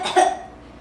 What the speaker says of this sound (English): You'll feel them more if you cough.